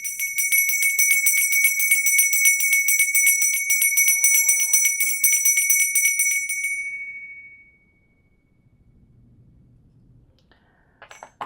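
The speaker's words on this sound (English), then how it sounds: "I'm going to ring the bell, clear your energy" A single bell is struck for an energy-clearing ritual, ringing out loud and bright with a long sustained tone that slowly fades over about seven seconds, followed by near silence and a few faint rustles.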